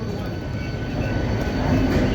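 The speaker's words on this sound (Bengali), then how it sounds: "স্টেশন থেকে ট্রেন ছাড়লো, ছেড়ে আস্তে আস্তে করে বেরোচ্ছি" A train pulls slowly out of Howrah station, a low steady rumble that swells gradually as it gains speed, heard from on board with no talk.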